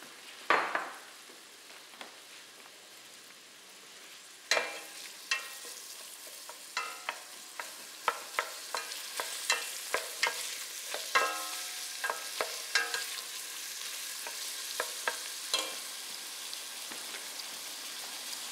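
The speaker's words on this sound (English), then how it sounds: "After garlic and onion have been frying for quite a while" Garlic and onions sizzle steadily in oil in a pan while a utensil stirs and scrapes, producing scattered clicks and taps over the continuous frying hiss.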